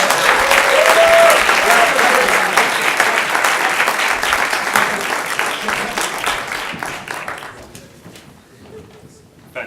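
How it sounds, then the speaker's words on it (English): Loud audience applause at a university research-talk competition fills the room with dense, steady clapping that gradually thins and fades toward the end, with a few scattered claps left. "Come on, big round of applause."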